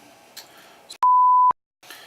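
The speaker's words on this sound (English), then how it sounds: "Would be nice if the stupid camera would stop shutting off." A camera gives one loud electronic beep, a steady pure tone lasting about half a second as it shuts off, between quiet stretches of faint background noise.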